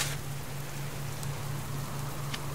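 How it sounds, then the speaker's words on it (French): Steady rain falls in the survival video game Subsistence, a continuous even hiss of drops on surfaces that holds at one level throughout with no voices. "Bon, de l'eau mais il pleut."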